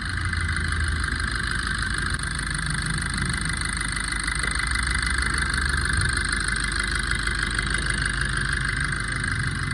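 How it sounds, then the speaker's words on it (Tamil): A Maruti Swift Dzire diesel engine with a blown head gasket and overheating trouble, idling steadily with an even, continuous clatter and hum close by and no talk. "ஃப்ரெண்ட்ஸ் இந்த ஷிஃப்ட் டிசைரோட இன்ஜினை ஸ்டார்ட் பண்ணிட்டேன்."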